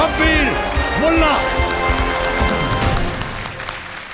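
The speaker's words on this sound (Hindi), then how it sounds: "तालियां बजते रहे अय्याज के लिए" Studio audience applause fills the Kaun Banega Crorepati game show set, a dense, steady patter of clapping that carries on while someone speaks over it.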